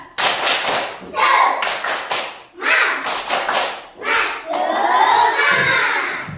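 Schoolchildren in a classroom shout and cheer in bursts, with rhythmic group clapping mixed in. The crowd noise is loud and close, coming in several waves over about six seconds.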